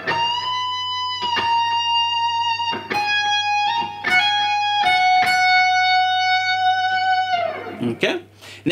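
A slow run-through of a phrase from a guitar solo on electric guitar, with clean sustained single notes and bends picked one at a time, close and clear, ending in a few quick scratchy strums.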